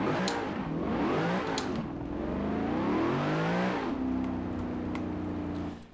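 A Cadillac CTS-V with an upgraded supercharger, driven in Forza Horizon 4, roars through a sustained burnout, engine revving steadily at close range, pitch sweeping up and settling into a loud held drone with tire whine for about six seconds.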